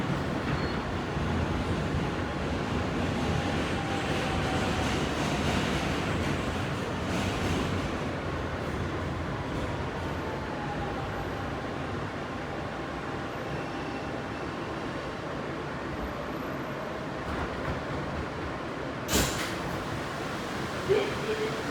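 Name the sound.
Kawasaki R160B subway train riding between stations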